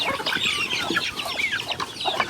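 Turkeys gobbling and clucking nearby, a steady chatter of overlapping bird calls with no talking.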